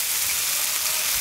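Salted chili peppers stir-frying in a hot wok with fat: a loud, steady, close hiss and crackle of sizzling oil running without pause, no voices over it.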